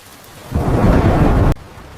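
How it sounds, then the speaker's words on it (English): A loud rumble of thunder rolls in suddenly, holding steady for about a second with broad deep energy before cutting off abruptly, leaving quiet background hiss. "I hear thunder outside."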